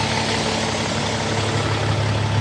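A Kenworth big rig truck's diesel engine idles close by, a steady, loud, low rumble with an even throb and no change in revs throughout.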